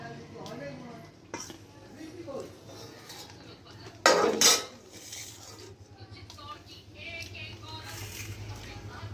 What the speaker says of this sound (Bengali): যে কাঁঠালের তরকারি দিয়ে আমি খাচ্ছি